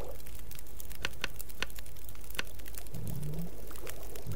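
Water poured in The Long Dark, a survival video game: a soft trickling pour with scattered clicks and taps, fairly quiet, and no talking over it.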